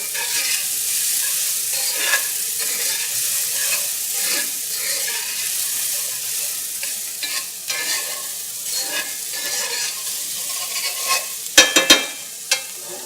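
A sauce base sweats over medium heat in a pan, giving a soft continuous sizzle with faint stirring scrapes and a few sharper clinks near the end.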